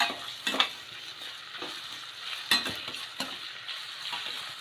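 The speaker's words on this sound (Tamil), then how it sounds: "இது நல்லா ப்ரௌன் கலராக வதங்கி வரட்டும்." Onions and green chillies sautéing in a pan with a little rock salt, a steady soft sizzle broken by a few sharp scraping stirs of a utensil, close and without talk.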